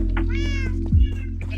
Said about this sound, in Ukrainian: Кошеня, кошеня, я хочу кошеня.